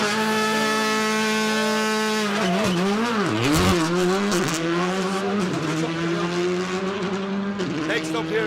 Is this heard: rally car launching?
yes